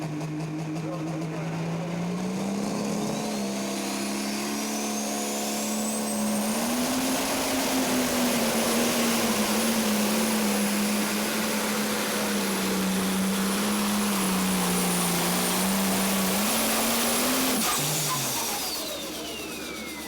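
A pro stock pulling tractor roars loudly through a tractor pull run at Tomah, Wisconsin, its engine pitch climbing and holding high for most of the pass before cutting off abruptly near the end, with no talk over it.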